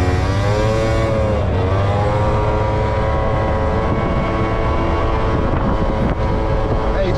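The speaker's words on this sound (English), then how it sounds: "this is what it's like to be on that 50cc out here. In the streets." Riding a 50cc scooter along a street, its small engine droning steadily with rising and falling pitch under constant loud wind buffeting on the microphone, no talking.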